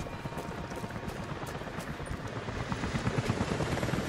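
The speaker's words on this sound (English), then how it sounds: "helicopters are headed your way" Helicopters approach in the video game Rise of the Tomb Raider, a steady rotor thump and engine whine that grows louder toward the end, with faint gunfire-like hits mixed in.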